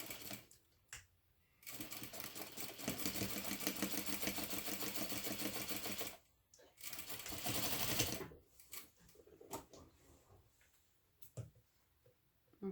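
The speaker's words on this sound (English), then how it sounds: "I'll use a shorter stitch length for this." Sewing machine stitching a fabric seam at a short stitch length runs in rapid mechanical bursts, two long runs separated by a pause, then stops and starts with scattered clicks and handling noises, close and fairly quiet.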